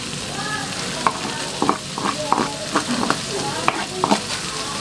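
A spatula stirs and scrapes through sizzling ingredients in a frying pan while homemade mie goreng is being made. The scrapes are steady and irregular over a constant close frying hiss, and there is no speech.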